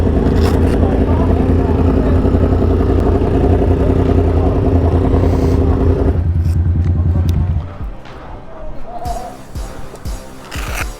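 Motorcycle engine on a ride, a loud steady drone that runs for several seconds, then drops away and gives way to quieter wind, rumble and scattered knocks.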